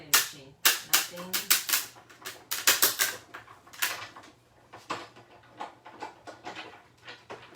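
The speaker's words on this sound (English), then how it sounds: "I'm just running it through the die cutting machine." A die cutting machine feeding a card through for a slimline thank-you card, giving a run of sharp mechanical clacks and snaps, close and fairly loud, bunched in the first few seconds and thinning toward the end.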